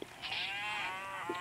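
A cow moos in a survival crafting video game, one long drawn-out low call rising and falling for over a second, near and fairly clear with no talk over it.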